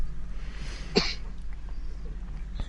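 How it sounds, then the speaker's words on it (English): A single short, sharp cough sounds once, close by, against a quiet low hum. "Sorry, I got a little bit of a cough going."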